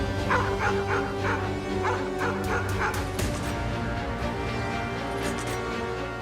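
Guard dogs at the Mauthausen concentration camp barking and yipping: a burst of rapid barks and whimpers, moderately near, with a second cluster of yips a few seconds later over a steady low background.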